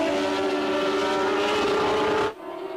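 A 1982 Formula 1 car at the Brazilian Grand Prix howling past at high revs, a loud steady engine whine that cuts off abruptly near the end as it passes, leaving a quieter, lower drone.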